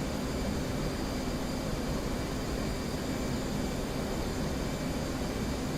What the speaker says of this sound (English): the F-18 is just... I love flying this plane